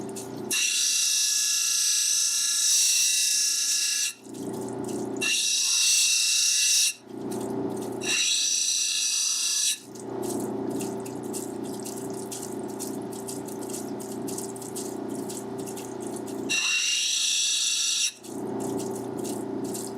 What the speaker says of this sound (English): That's sounding better with the grinding.